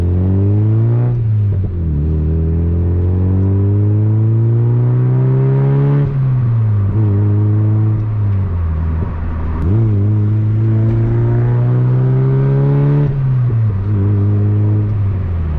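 A Mazda MX-5 Mk2 NB with an aftermarket exhaust drones loudly from inside the car, its engine note rising steadily through the gears and dropping back at each shift, a deep continuous rumble.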